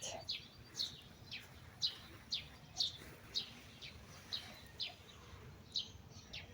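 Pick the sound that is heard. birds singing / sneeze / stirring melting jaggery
birds singing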